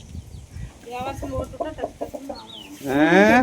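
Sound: chicken clucking

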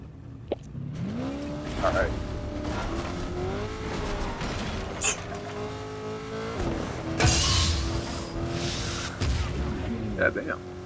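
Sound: car driving in video game Fortnite

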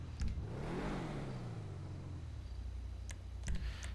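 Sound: car engine revving in GTA 5 (video game) garage

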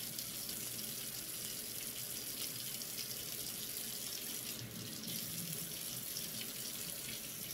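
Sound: tap water rinsing food in a sink

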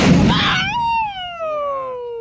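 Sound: paper roll firecracker exploding

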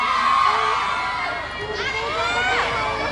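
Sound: concert crowd shouting and cheering

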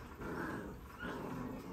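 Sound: puppy growling

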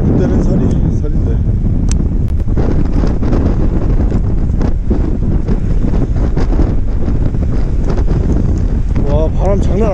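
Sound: strong wind at the sea

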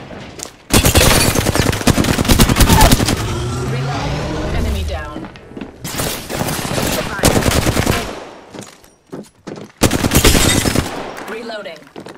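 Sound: gunfire in the video game Apex Legends

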